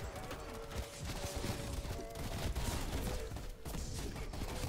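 Rapid video game gunfire in Call of Duty zombies on Die Maschine, dense bursts of shots repeating almost without pause, loud and crowded with other game effects.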